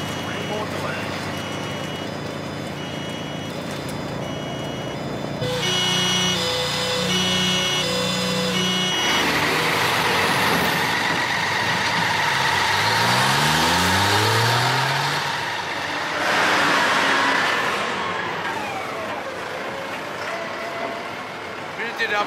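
A truck engine runs and revs, swelling in loudness mid-way with a rising pitch sweep, while music and other sounds shift around it.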